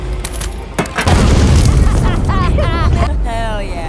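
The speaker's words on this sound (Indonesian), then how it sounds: "Megan giveaway sebutir granat nanas sebagai salam perpisahan" A pineapple hand grenade goes off in a loud, close boom, a wall of low rumble that holds for seconds, with a voice talking over the tail of the blast.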